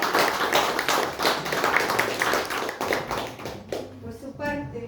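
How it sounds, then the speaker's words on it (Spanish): Clapping from a gathered audience at a ceremony honouring a university board member, fairly close and uneven, fading toward the end as a voice begins to speak. "Un aplauso."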